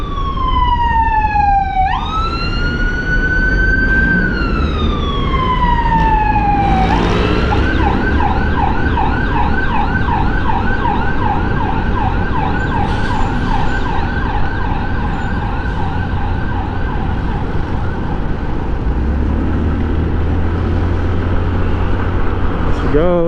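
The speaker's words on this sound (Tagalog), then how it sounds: "Nice din yung ambulansya, ano." An ambulance siren sweeps up and down loudly at close range, then holds a steady two-tone wail, heard from a Fazzio scooter on a hot commute, with constant traffic and road rumble underneath.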